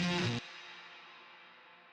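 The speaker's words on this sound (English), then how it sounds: "So I added a studio reverb" Guitar intro phrase run through a studio reverb with extra delay: a loud chord for a split second, then cut off, leaving a long smooth reverb tail that fades gradually over nearly two seconds.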